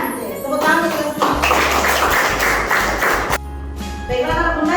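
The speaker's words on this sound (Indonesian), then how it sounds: "tepuk tangan kita semua." A class of young children clapping hands together in rhythmic bursts, with a teacher's voice speaking over and between the claps in a classroom.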